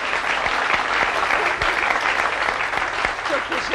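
Studio audience applause on a Turkish television talk show, sustained dense clapping at steady, fairly loud level throughout, with a few sharper individual claps standing out.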